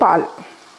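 Raw milk is poured into a hot pan and stirred, giving a sharp burst of sizzling that quickly fades to a soft simmer, loud and close, alone.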